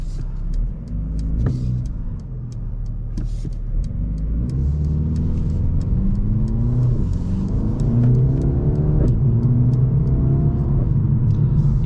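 Revving 2023 Mercedes-AMG CLA 35 Coupe engine, a steady loud rumble that climbs and falls across the clip, with faint intermittent exhaust pops scattered in the upper range.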